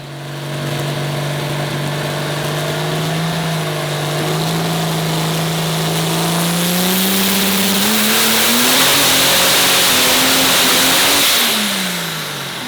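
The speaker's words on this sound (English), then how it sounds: "when he throws his hand, we start the dyno run, and it runs it through all 5 gears including lockup" A 3000+ horsepower diesel truck roars on a dyno, its loud engine note climbing steadily and stepping up through all five gears with lockup, pitch rising between shifts before dropping off as the throttle lifts at the end.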